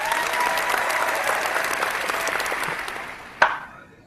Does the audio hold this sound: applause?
yes